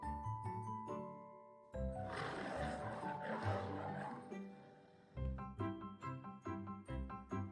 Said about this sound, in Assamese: লায়ন মানে সিংহ